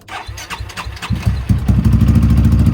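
A Yamaha XMAX scooter with a stage 4 380cc engine cranks with a few quick sputters, then catches and settles into a loud, steady, buzzy idle, close up with no talking.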